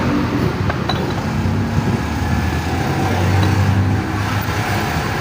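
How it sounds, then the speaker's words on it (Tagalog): Passing road traffic roars steadily nearby, with loud vehicle exhausts rumbling and revving as cars and motorcycles go by on a busy street. "ganda sa kanilang tambutso eh. Bumba ng bumba kaya maingay."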